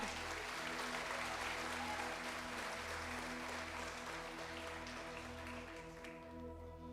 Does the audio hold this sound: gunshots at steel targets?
no